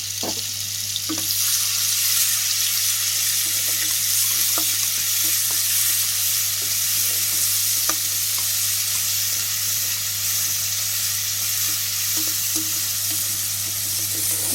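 Sliced onions fry in very hot oil for egg masala curry, giving a loud, continuous sizzle with scattered pops and crackles over a steady low hum, close by and with no talking.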